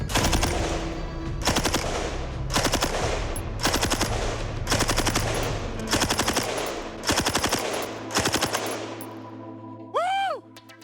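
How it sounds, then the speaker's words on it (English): An M60 machine gun fires several long full-auto bursts, loud and close, with sharp broadband cracks in rapid rhythm separated by short pauses, then a brief whooping voice at the end. "I just fired 45 rounds from the M60."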